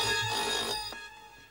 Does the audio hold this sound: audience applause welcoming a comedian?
no